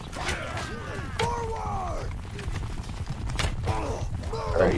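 Horses gallop across a battlefield in the video game Mount & Blade II: Bannerlord, a steady rumble of hooves mixed with creaks and shouts under constant background noise, with several voices talking over it.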